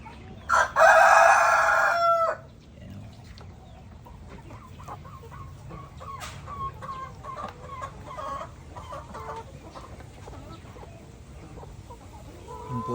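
Rhode Island Red F1 chickens in a backyard flock: one loud, close rooster crow in the first two seconds, then scattered soft clucks and cackles over a steady low farmyard hum.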